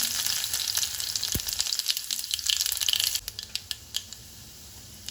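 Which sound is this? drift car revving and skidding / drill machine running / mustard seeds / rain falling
mustard seeds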